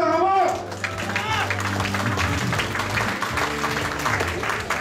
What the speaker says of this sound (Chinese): 我们特别掌声欢迎